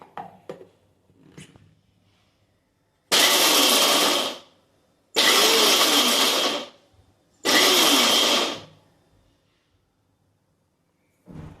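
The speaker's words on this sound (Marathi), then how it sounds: "मिक्सर ऑन ऑफ करत भरड करणार आहोत." Three loud bursts of a mixer grinder pulsing almonds and cashews into a coarse powder, each running about a second or two with short silent gaps between, after a few faint clicks.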